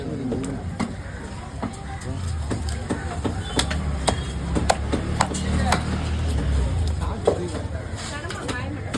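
A knife hacks through fish at a Kasimedu fish market in Chennai with quick, irregular cutting thuds, heard close under steady chatter and the noise of the market.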